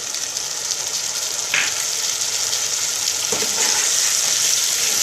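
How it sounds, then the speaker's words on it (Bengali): Mushrooms are stirred in a hot pan with soy sauce and chilli vinegar, giving a steady close sizzle of frying throughout with a few faint scrapes of a spoon against the pan. "সোয়া সস দিয়ে দিচ্ছি আর চিলি ভিনিগারটাও দিয়ে দিচ্ছি। এবার এগুলো সব একসঙ্গে মিশিয়ে নেব।"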